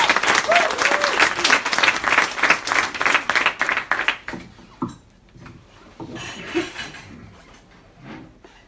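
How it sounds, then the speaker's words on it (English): Full audience applause welcomes the city of Oulu team to the stage at the Demola Oulu Autumn 2017 final pitching event. It is dense and loud for about four seconds, then fades to scattered quieter sounds. "And a big round of applause."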